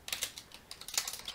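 Rapid clicking of a computer keyboard as a chat command is typed in the online game World War 2 Online, a close, irregular burst of keystrokes with no talking.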